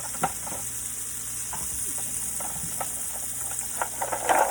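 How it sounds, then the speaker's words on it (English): Blue crab legs sizzle in a pan of extra virgin olive oil and butter, a steady frying hiss with scattered pops and utensil clicks, growing a little louder toward the end. "now we'll go ahead and put our blue crab legs in there"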